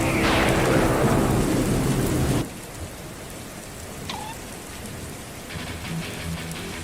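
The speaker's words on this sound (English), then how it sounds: "We made it outside into the stormy rain." Heavy rain pours down hard in a thunderstorm, loud and dense for about two seconds, then drops to a steadier, softer hiss of rainfall with faint rumbling underneath.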